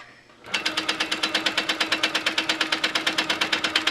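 A sewing machine stitches free-motion ribbon candy quilting along a tall green sashing on a pillow sham, starting after a brief quiet and running as a steady, rapid, even needle rhythm, close and clear with no talking.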